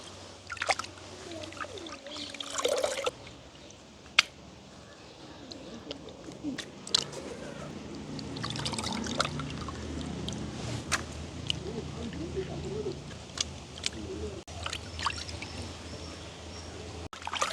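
Pieces of tuna-like fish are washed by hand in a pot of water outdoors in a village, with irregular sloshing, splashing and wet handling sounds close by over nearly twenty seconds, punctuated by occasional sharp knocks.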